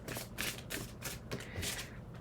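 Tarot cards being shuffled by hand, a steady run of soft papery riffles and slaps with no voice over them.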